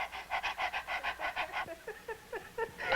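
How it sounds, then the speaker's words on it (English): A woman in labour panting rapidly like a dog during childbirth, a steady run of about a dozen quick breaths followed by shorter, breathier gasps, close and fairly loud with no talk. "I want you to stop pushing down and pant like a dog"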